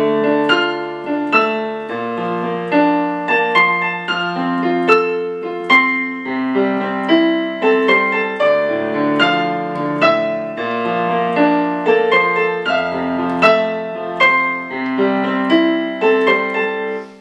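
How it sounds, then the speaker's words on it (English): Solo piano plays an arrangement of a song with the melody in the right hand over steady chords, close and clear, with even rhythmic phrasing throughout. "It's a piano solo arrangement, so it's got the melody in the right hand."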